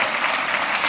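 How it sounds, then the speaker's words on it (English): Audience applause at a wedding business seminar, a steady dense clapping wash with no breaks, loud and close, lasting about a second. "Don't short her on her applause."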